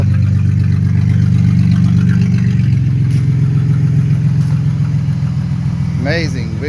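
A car with a straight pipe exhaust idles loud and close in a steady, rumbling drone that eases slightly lower partway through. A voice cuts in briefly near the end.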